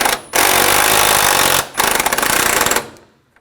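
A power tool tightens bolts on the radiator and condenser fan assembly of a 2004-2009 Audi A4. Two loud, rattling bursts are separated by a brief pause, ending in quiet.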